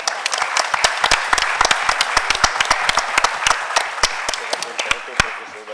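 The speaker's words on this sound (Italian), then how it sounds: "Ma però vi chiedo un applauso supplementare" An audience gives sustained applause, dense and continuous, with sharper individual claps standing out throughout.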